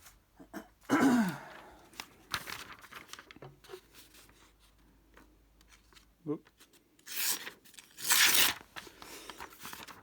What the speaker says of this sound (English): I'll try it on a piece of paper.